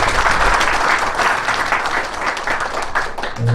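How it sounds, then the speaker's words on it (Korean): A seminar audience on private investigation policy claps steadily throughout, a full, even round of applause with no break, close and loud, ending as a voice starts at the very end. "박수 부탁드리고요."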